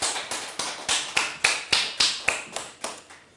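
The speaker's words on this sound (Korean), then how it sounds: "믿으시면 하나님께 감사의 박수 올려드리겠습니다." Congregation in a Korean church service clapping together in a steady rhythmic beat, about a dozen sharp, loud claps evenly spaced and close, with no talking over them.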